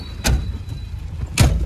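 A car door on a lowered Tofaş slams shut twice, two dull, close thumps about a second apart over quiet idling background.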